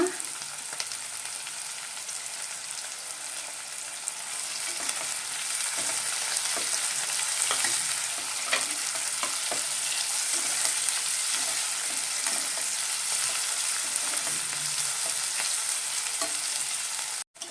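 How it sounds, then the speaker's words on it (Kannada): Medium-sized capsicum frying in a pan for aloo capsicum gravy, a steady bright sizzle with occasional stirring scrapes and clinks throughout, close and continuous with no talking. "ಒಂದು ಮೀಡಿಯಮ್ ಸೈಜು ಕ್ಯಾಪ್ಸಿಕಮ್ ಇದು ಹಾಕ್ಕೊಂಡು ಫ್ರೈ ಮಾಡ್ಕೊಳ್ಳೋಣ"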